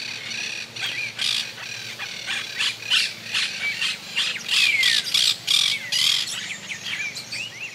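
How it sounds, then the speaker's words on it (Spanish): Kingfisher calls ring out beside the Arroyo Cululú stream in Santa Fe, Argentina: a close, loud series of harsh squawks and chattering notes repeating in irregular bursts. "Es frecuente la presencia de los martines pescadores."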